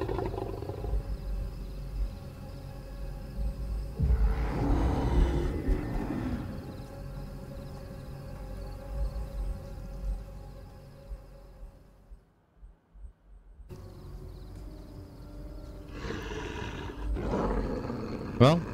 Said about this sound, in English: Why do you walk towards the growling